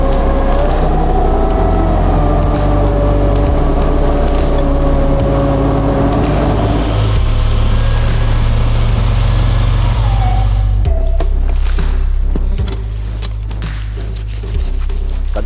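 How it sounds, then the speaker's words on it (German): A Honda outboard motor drives a fishing boat on a river, a loud, steady low drone with a faint tonal whine over it that eases off toward the end. "Honda-Motor."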